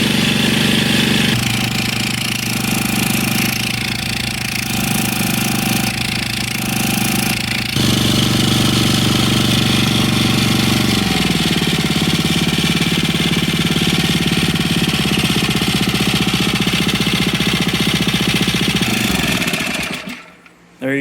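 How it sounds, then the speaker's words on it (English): Brownie's Third Lung hookah dive compressor with an Amazon carburetor, its small gas engine running loud and steady close by, with a slight shift in pitch midway before it cuts out at the end. "Brownie's third lung with an Amazon carburetor. Started on the first pull. Runs mint."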